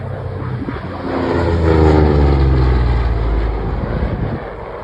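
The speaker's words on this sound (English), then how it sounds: "The Corsair." An FG-1D Corsair fighter's piston engine and propeller roar past at an air show, a loud, deep drone that swells to a peak midway and then slowly fades as the aircraft moves away.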